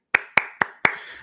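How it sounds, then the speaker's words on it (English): Four sharp hand claps in a steady, slightly uneven rhythm, close and dry, each one quickly fading, with no talking. "I think we can all clap that up"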